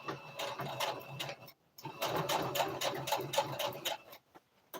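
A sewing machine runs in short bursts while back stitching on a turban hat, its needle ticking rapidly and close, pausing briefly before resuming.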